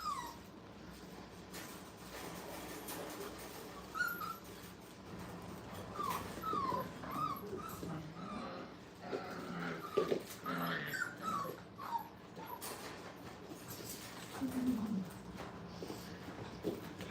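Puppies at a training kennel whimper and yip in scattered short cries, fairly close, over steady background room noise with no one speaking.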